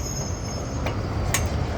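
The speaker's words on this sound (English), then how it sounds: "So it's got lots of little mini trolleys here besides the trains." A Melbourne tram rolls past on street rails, giving a steady low rumble with a faint high wheel squeal and a couple of brief metallic clicks, with no talking.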